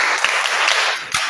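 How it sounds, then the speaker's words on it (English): Brief burst of applause for a young girl at a birthday celebration, a dense steady clatter of clapping hands filling the short moment without speech. "Another applause for her."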